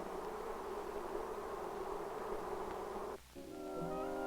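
Honeybees buzz around their hive in a steady, soft drone that holds for several seconds, then shifts to a higher, more tonal hum near the end.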